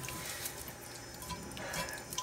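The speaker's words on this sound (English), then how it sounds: "I'm going to get my hot water going again." Hot water runs steadily from a kitchen tap into a sink while a cast iron skillet is being cleaned, a continuous broadband hiss and splash with faint dripping, close and alone without talk.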